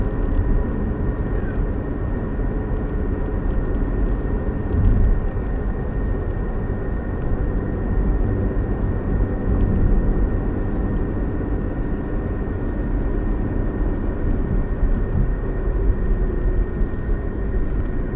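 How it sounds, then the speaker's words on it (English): A big airplane flies overhead with a continuous low, loud rumble that holds steady for the whole stretch, with no talking. "That big airplane, that's yucks."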